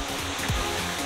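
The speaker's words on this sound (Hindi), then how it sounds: "मैं सुन सकता हूँ फॉल्स की आवाज़ यहाँ भी आ रही है" Distant waterfall at Thottikallu Falls near Bangalore, heard as a steady, even rush of broadband water noise that holds constant through the short moment with no voices over it.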